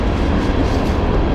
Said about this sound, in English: And you can hear the train going by.